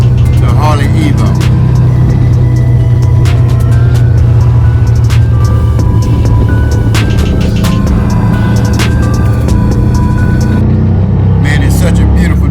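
Harley-Davidson Evo motorcycle riding on a road, a loud, constant low engine drone with wind rush close to the rider, someone talking over it throughout.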